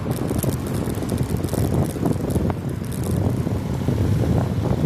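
Steady, strong wind roaring across the microphone, a constant broadband rumble with gusty low-end buffeting throughout and no speech.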